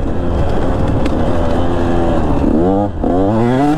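A KTM 150 SX two-stroke motocross bike ridden hard on a sandy track, its engine loud and close, buzzing and revving in rising sweeps with a brief dip as the throttle blips.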